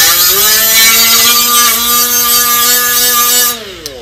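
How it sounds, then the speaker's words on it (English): A disc grinder runs at a steady high-pitched whine, loud and close, as it flattens broken bolts, then winds down near the end with a faint knock. "I have a disc grinder right here, and I like to flatten these bolts off"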